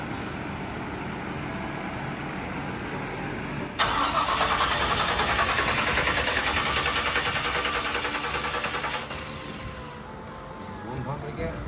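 A 1957 Chevy engine cranks and then catches, roaring up loud and close for several seconds before settling to a rougher idle, with voices talking over it.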